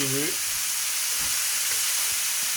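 Rabbit pieces and mushrooms brown in a hot pan, giving a steady, loud, close sizzle with a brief tonal squeak at the start and soft stirring knocks underneath.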